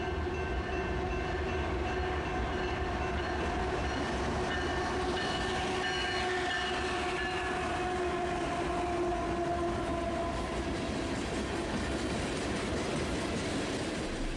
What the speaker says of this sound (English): The first train that we got was a BNSF coal train being pulled by a Gevo.